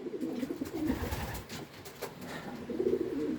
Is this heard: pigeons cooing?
yes